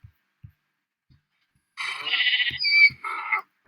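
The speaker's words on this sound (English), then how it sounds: "Sometimes wild sheep will just come into the cows." A sheep bleats among a herd of cows in Mali: a couple of wavering, nasal calls close by, preceded by a few soft low thumps in otherwise quiet surroundings.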